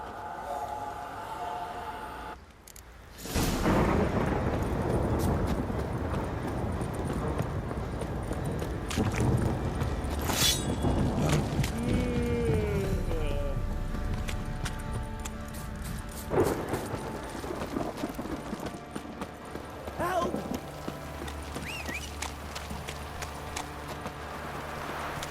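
Roach, the horse in the video game The Witcher 3, gallops in a steady drumming rhythm of hoofbeats under a dense rumbling game soundscape that runs throughout.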